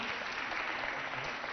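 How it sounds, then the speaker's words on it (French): An audience at a school recitation competition claps for their teachers, a continuous, even burst of applause from a crowd, loud and sustained throughout. "Vous allez applaudir très très fort pour vos enseignants qui sont restés avec vous jusqu'à maintenant"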